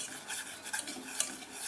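Butter melting in a pan is stirred for a dessert, with soft, quiet scraping strokes and faint clinks of the utensil against the pan.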